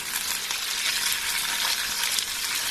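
Cut green beans added to frying potatoes in a pan for a vegan beans aloo masala fry, producing a steady, close, loud sizzle with faint stirring throughout.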